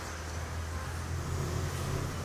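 A car idles nearby as it stops, a steady low engine rumble with broadband road noise, moderately loud and unbroken throughout.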